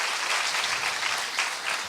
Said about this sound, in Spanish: El reconocimiento de la gente con este aplauso sostenido.